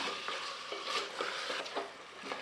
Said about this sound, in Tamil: நல்லா மட்டனை வதக்கி விட்டுக்கலாங்க